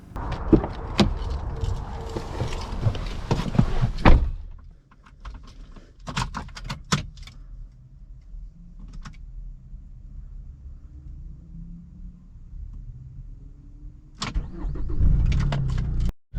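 A modified Chevy Colorado Baja pickup truck: handling clatter and clicks, then the engine settles into a low, quiet idle rumble before surging louder as the truck pulls away. There is no speech.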